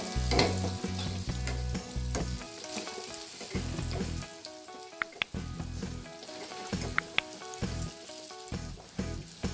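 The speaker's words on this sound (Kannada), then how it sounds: "ಇದನ್ನು ಮೀಡಿಯಂ ಫ್ಲೇಮ್ನಲ್ಲೇ ನಾವು ಕರಿಬೇಕಾಗುತ್ತೆ" Cut mirchi chilli fritters sizzle and crackle in hot oil on a medium flame, a continuous close frying hiss with occasional pops under rhythmic background music.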